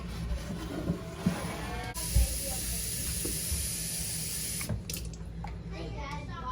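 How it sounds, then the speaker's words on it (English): Fresh milk pours into a glass jar of homemade kefir, a steady close liquid hiss and trickle lasting several seconds with small clinks and shifts in the flow. "we will put some fresh milk in this jar"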